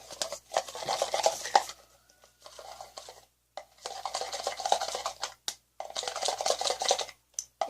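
Thick slime mixture being stirred and squished in bursts, with wet sticky smacking and scraping against the container, separated by short pauses; close and fairly quiet, no talking.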